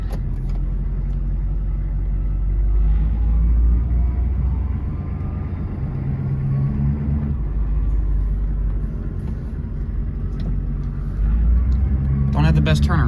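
A 1996 diesel Chevrolet Suburban rolls along with a deep, steady engine rumble and road drone heard from inside the cab, with a voice speaking over it.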